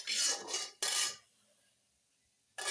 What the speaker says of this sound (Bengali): দেখুন তেলটা দিয়ে একটু নেড়ে দিলাম।